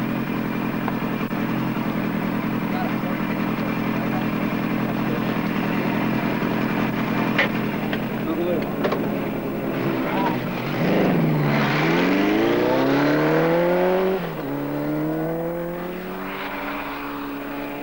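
Kawasaki Z1000 motorcycle circling an oval track in 1972, its engine droning steadily from a distance before swelling into a loud, close pass with rising and falling revs, then fading away.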